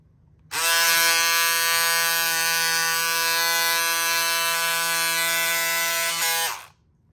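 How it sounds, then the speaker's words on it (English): Pink cordless electric scissors cutting through several layers of marine vinyl, a loud steady motor buzz that starts abruptly, holds for about six seconds and then winds down, close up with no talk. "So it cut through 1, 2, 3, 4 layers of marine vinyl."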